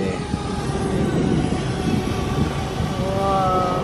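A drone lifting off outdoors on a windy day, its rotors putting out a steady, loud whirring drone with a rising tonal whine near the end, alone without voices.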